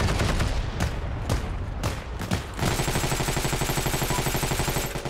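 MG42 machine gun mounted in a window in the Heroes & Generals shooter game: a few separate heavy gunshots, then a long, rapid, loud burst of automatic fire close by.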